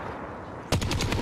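Rapid burst of automatic gunfire in the Warzone video game kicks in abruptly after a moment of low background noise, a fast, loud rattle of several closely spaced shots.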